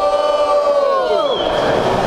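A battle-rap audience at the Batalha do Coliseu roaring and cheering loudly, a dense wall of crowd noise with high, rising shouts and whistles swelling toward the end.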